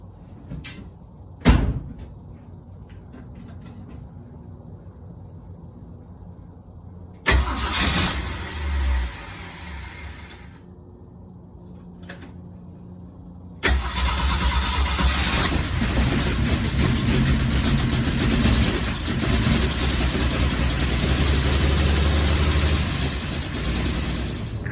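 An AMC Gremlin, freshly readied with the air cleaner refitted and battery charged, goes through door thuds and clunks before its engine catches and settles into a steady, fairly close running drone that continues to the end.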